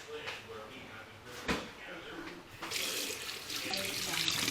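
Tap water runs into a kitchen sink at low volume, a steady hiss broken by clatters and knocks of items being handled, the flow growing fuller toward the end.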